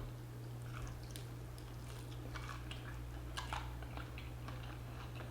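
Crispy air fryer chicken wing flat being bitten and chewed up close, a series of faint crunchy crackles and wet chewing sounds over a low steady hum.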